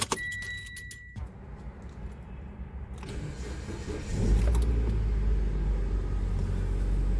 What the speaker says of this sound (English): I'm going to give you a cold start.